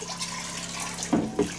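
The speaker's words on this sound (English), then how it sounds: "We're going to get everything wet with hot water again." Hot water runs from a tap in a camper kitchen, a faint steady stream with a couple of soft splashes near the end.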